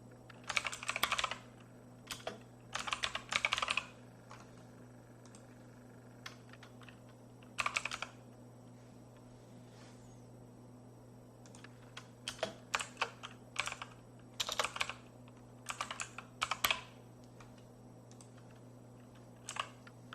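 Computer keyboard typing in irregular bursts of rapid keystrokes separated by pauses, close and clear in a quiet room with a faint steady hum underneath and no talking.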